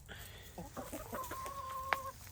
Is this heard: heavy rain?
no